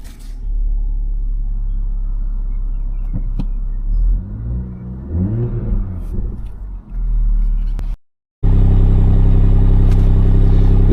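A 2020 BMW M340i with a sports exhaust idles in sport mode, giving a loud, steady low rumble with a few revs and clatter partway through, then a brief cut before the deep drone resumes.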